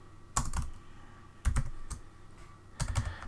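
Typing code on a computer keyboard while writing a Game Boy program: three short bursts of clicky keystrokes, close and crisp, separated by quiet pauses, with no speech.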